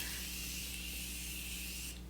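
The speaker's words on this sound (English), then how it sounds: "mist it all over my face very subtly" Facial mist sprayed over a face: a close, steady hiss of fine spray lasting about two seconds, alone, cutting off abruptly at the end.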